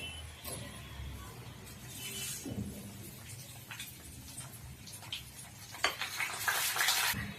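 Two chillies, a pinch of asafoetida and bay leaf go into hot oil for tempering a dal dish, giving a faint sizzle mixed with light clinks of a utensil against the pan.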